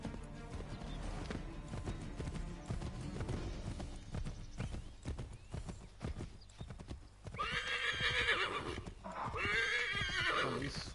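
A horse gallops in Assassin's Creed 3, rapid hoofbeats pounding close and loud, then two shrill whinnies ring out near the end.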